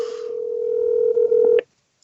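A single steady telephone ringback tone holds for about a second and a half and then cuts off abruptly when a call goes unanswered.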